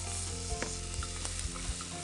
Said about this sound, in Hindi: अब इसमें हम डाल देते हैं हमारे मटर।